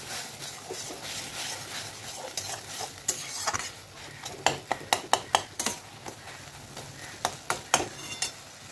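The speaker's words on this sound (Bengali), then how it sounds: "ভালো করে এরকম করে ঘেটে এটাকে ম্যাশ করে দিতে হবে পুরো।" Eggplant and tomato being mashed for bharta, a Bengali-style mash: a run of sharp utensil clicks and soft squelchy stirring, near and fairly quiet, with taps clustering in quick bursts.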